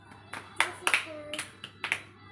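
Twin children clap their hands during a home puja, several short uneven claps scattered over a couple of seconds with faint voices in between.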